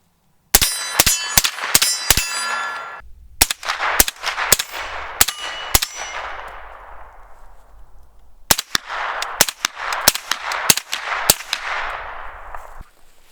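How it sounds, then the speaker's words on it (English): Rapid strings of muffled gunshots from a suppressed 9mm Extar EP9 carbine crack out in two long bursts separated by a short pause, each shot followed by a bright metallic ring. "throw the suppressor on just so you can see what that sounds like, see how it runs"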